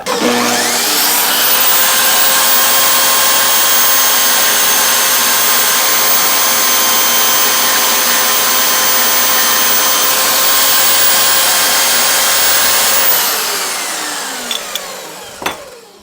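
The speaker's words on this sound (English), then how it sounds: "I just got a piece of 80/20 I want to try to cut." A Hercules portable band saw on a bench-top stand cuts a piece of 80/20 aluminum extrusion, giving a loud, steady motorized whine that holds for about thirteen seconds before winding down, followed by a couple of faint clicks.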